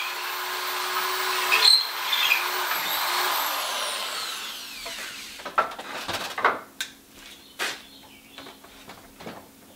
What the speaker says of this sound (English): What we're going to do is drill it out just a little bit more and open that hole up a little bit